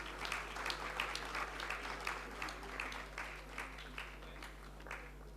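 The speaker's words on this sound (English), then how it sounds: "A huge round of applause for students," A convocation audience applauding graduating students as names are called: sustained crowd clapping, fairly distant and even, with a faint steady hum beneath it.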